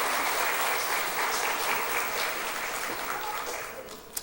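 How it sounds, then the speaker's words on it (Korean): A Korean church congregation applauds during a Sunday morning service, giving a dense, sustained round of clapping that slowly tapers off. "우리 한번 이 가족들 수고하시고 애썼으니까 격려 박수 한번 하겠습니다."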